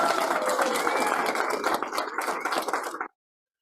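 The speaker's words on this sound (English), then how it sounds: "Big round of applause for her." Audience at an open mic magic show breaks into dense applause and cheering, loud and close, sustaining for about three seconds before cutting off abruptly to silence.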